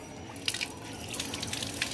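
A tap runs steadily as hands are washed at a bird park after ostrich feeding: a soft, continuous splash of water with a few brighter drips, fairly quiet.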